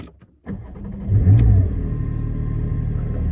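A 2021 Porsche 718 Cayman GT4 4.0 PDK engine starts with a sharp catch, revs up in a loud brief burst, then settles into a steady, throaty idle close by.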